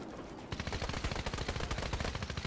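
Rapid automatic gunfire in the video game Fortnite starts after a brief pause and then rattles on continuously in quick, loud, evenly spaced shots with no talking over it.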